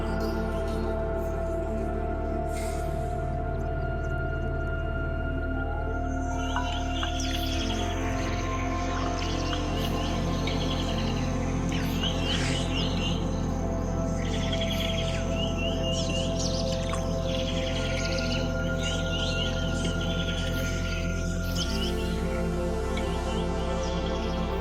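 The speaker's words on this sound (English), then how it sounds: "Host to an ever-changing array of feathered residents and visitors in the wetlands, birds bring variety and beauty to an already teeming ecosystem." Birds calling in a wetland, a mix of chirps, tweets and varied calls over about 25 seconds against a steady droning background, some nearer and some faint.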